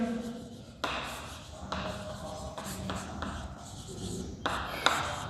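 Writing on a board during a chemistry lecture on alcohols, phenols and ethers: quiet scratchy strokes broken by sharp taps where the marker or chalk meets the surface, in uneven bursts, with low room noise.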